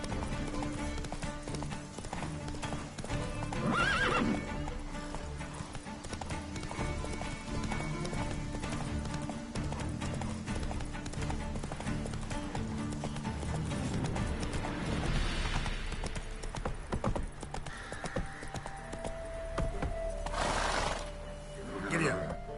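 Horse hooves clip-clop steadily through The Witcher 3 video game, with occasional neighs and whinnies, mechanical creaks and game sound effects, while a voice speaks over the scene.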